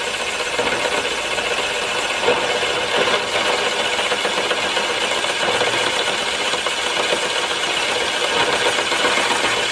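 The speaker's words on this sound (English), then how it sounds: "This is more what the boring head is intended for." A boring head on a small milling machine bores large plates held three at a time in a vise, giving a loud, continuous metallic grinding whine that stays steady throughout with no talk.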